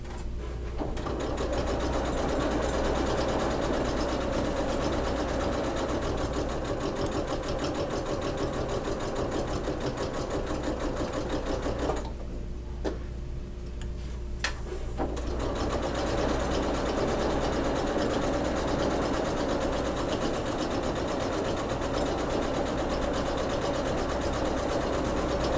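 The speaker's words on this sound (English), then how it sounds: "I'm just going to top stitch along the edge here, about 1/8 of an inch away." Sewing machine top stitching along a fabric edge on a quilted beach bag, a steady close whirring hum running almost the whole time with a short pause partway through before resuming.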